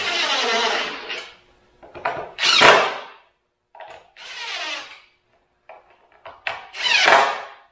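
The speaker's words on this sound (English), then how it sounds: "With my screws, just run it right down. Just snug." A power driver runs screws down into cut wood blocks in several short bursts, each a whirring drive that tightens and stops, separated by brief pauses, close and loud with no talk.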